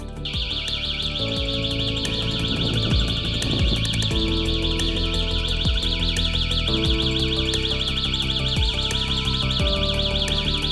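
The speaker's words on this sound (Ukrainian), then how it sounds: "Увімкнула світлозвукова сигналізація." A loud fire alarm sounder shrills continuously with a rapid warbling pulse during a smoke detector test, accompanied by intermittent clicks and beeping tones.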